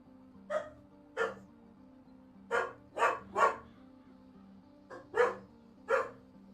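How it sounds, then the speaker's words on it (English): Dogs bark about nine times in short, separate bursts, some single and some in quick pairs, at moderate distance. A faint steady hum runs underneath and no one speaks. "Doggos."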